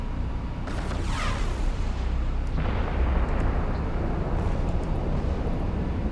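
Missile launches and explosions in the space game EVE Online, a loud rumbling roar with a whooshing launch and booming blasts over a continuous heavy background.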